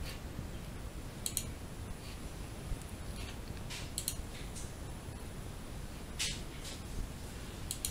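Computer mouse clicking during SolidWorks 3D modelling of a straight staircase: a few faint, scattered clicks, some in quick pairs, over a steady background hiss, with no speech.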